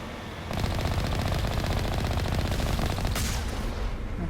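Sustained rapid automatic fire from a turret in the Mass Effect video game, a loud continuous rattling burst that starts half a second in and runs steadily to the end without a break.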